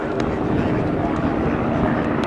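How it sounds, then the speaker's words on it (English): A Bo 105 helicopter flies an aerobatic display at the Royal International Air Tattoo 2015 air show, its engine and rotor making a steady, loud, broadband roar that holds throughout. "the Bull 105 climbs backwards. And we're getting ready for one of the high points of its show"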